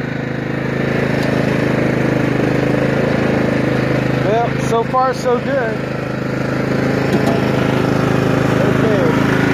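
A lawn tractor fitted with a trailer hitch runs continuously and loudly with a steady droning engine note close by as it drives across a property, and someone speaks briefly over it.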